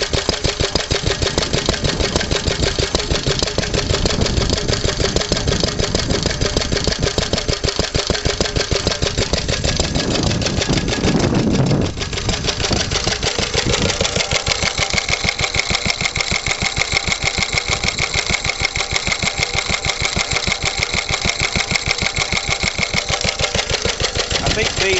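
A Lister D stationary diesel engine runs steadily at idle, loud and close, its fast even firing beat overlaid by a clattering valve-clearance racket, with a brief dip in the sound midway.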